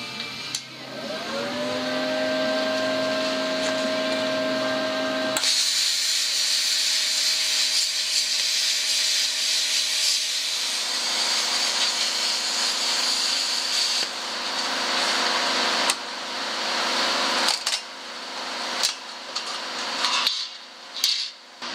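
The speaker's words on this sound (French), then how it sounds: "je vais commencer par couper 2 bandes de tôle de 90 mm de large" A power tool cuts strips of sheet steel for a Land Rover Discovery restoration: a motor spins up with a steady whine, then a loud, sustained harsh grinding cut runs on, breaking into uneven bursts toward the end.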